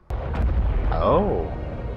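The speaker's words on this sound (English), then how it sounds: "They just destroyed Starkiller Base." A huge explosion tears through Starkiller Base in Star Wars Battlefront 2, a loud sustained rumbling boom with a rising, warbling roar partway through, heard alone without talk.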